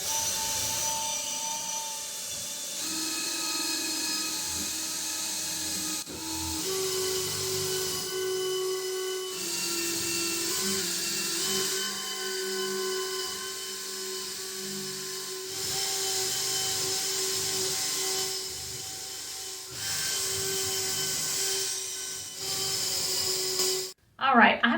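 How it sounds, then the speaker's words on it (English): A power drill with a 1/4 inch Forstner bit bores drainage holes in the bottom of a cedar planter, a loud, steady high whine with changing pitch that runs continuously for over twenty seconds before stopping abruptly. "drill some drainage holes in the bottom with a 1/4 inch"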